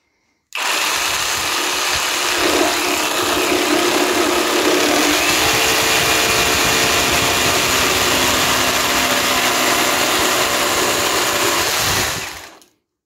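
A Parkside Performance PSSPA 20-Li A1 cordless reciprocating saw buzzes steadily through a cut for about twelve seconds, loud and close, with no voices over it.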